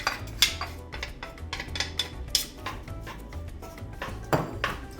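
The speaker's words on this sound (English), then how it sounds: "we are going to stir it and fry it up until it gets a little bit of a pale yellow color" Chopped onions frying over medium-high heat in olive oil, stirred in a pan with a utensil: repeated close scraping and clattering strokes on the pan, some sharper knocks, over a low background.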